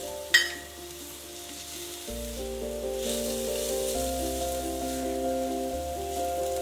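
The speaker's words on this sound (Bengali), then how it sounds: "একটু অল্প ভাজা হয়ে গেলে কড়াইতে দেব ছোট করে কেটে রাখা গাজরের টুকরো। আবার একটু হালকা ভেজে নেব।" Small chopped carrot pieces fry in a hot wok with a steady, even sizzle, while a low hum runs underneath and a brief clink sounds near the start; no one speaks.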